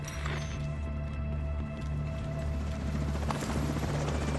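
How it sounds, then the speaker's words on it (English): A helicopter's steady, low rotor thrum fills the space as it approaches in the game The Division 2, with faint clatter and impacts mixed in. "Enemy helicopter approaching."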